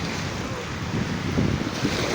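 Sea waves wash onto a beach at Wawa, Paclasan, Roxas, Oriental Mindoro, a steady rushing surf close by with wind buffeting the microphone throughout and no voices.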